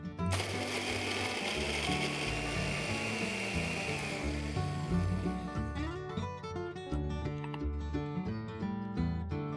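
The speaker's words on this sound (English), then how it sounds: "now let's grind them into a fine powder" Mixer grinder pulverising Marie biscuits into fine powder: a continuous, steady mechanical whir and grinding rattle runs close and loud throughout, its pitch shifting partway as the crumbs break down, with no talking.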